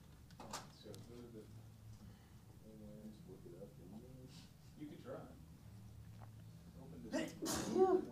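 A single quiet sneeze near the end, following soft indoor chatter and background voices.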